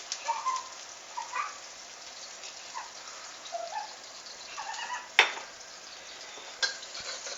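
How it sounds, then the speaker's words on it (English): Plain vegetable oil sizzling in a hot pan on the stove ahead of stir-frying Chinese broccoli, a steady soft crackle with a few sharper pops and clicks, close and fairly quiet, no talking. "You don't want to burn it, so turn it down low if you see that it's sizzling already."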